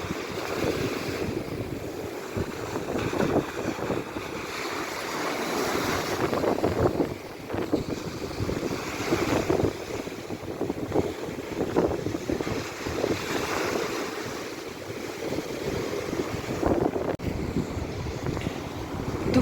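Continuous Black Sea surf rolls and washes on the shore at Odesa, with wind buffeting the microphone, a steady roar of waves rising and falling with no one speaking.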